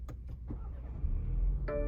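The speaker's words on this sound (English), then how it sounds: "And if we start the car," A 2022 BMW X3 xDrive30i starts up from inside the cabin: a few soft clicks and a low starter whir, then the engine catches with a brief rise in low rumble, followed by a short electronic chime.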